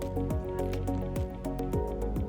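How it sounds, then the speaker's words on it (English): Liquid glugs and drips as a mixture of glitter and purple watercolor paint is poured into a container, with repeated bubbling, squishy pulses in a close, continuous run and no speech. "I'm just gonna pour it in."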